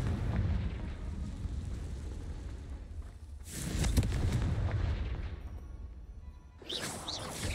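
Confringo spell blasts in the video game Hogwarts Legacy: two loud, booming explosions a few seconds apart, each with a sharp whooshing burst followed by a rumbling decay over a steady low background.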